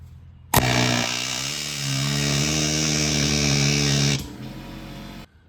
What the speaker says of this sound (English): So I'm gonna get the air chisel in here and see if we can make a little more headway.